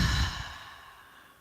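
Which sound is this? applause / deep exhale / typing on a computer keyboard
deep exhale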